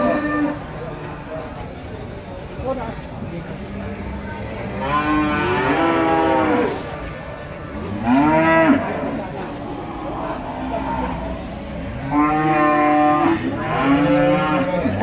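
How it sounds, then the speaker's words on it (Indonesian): Limousin cattle moo loudly several times at a livestock market, long drawn-out calls rising and falling, over a busy background murmur of a crowd. "sapi jenis limosin inilah"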